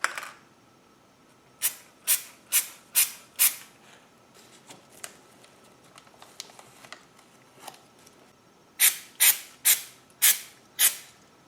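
Trim adhesive sprays onto a GM A/C box in short sharp hissing bursts, a run of five, a quiet stretch with small handling clicks, then another quick series of five close bursts.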